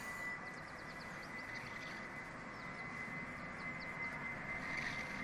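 Emirates airliner at Manchester Airport, a steady, distant engine roar holding an even level throughout with no voices.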